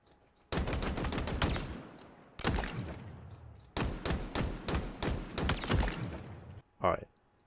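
Rapid bursts of video game gunfire from Halo Infinite target practice, loud and close, coming in several long automatic volleys with short gaps between them.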